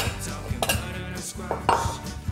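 A spoon scrapes and clinks against the pot as butternut squash soup is given a couple of stirs, producing several short metallic knocks and scrapes close by over a low steady hum.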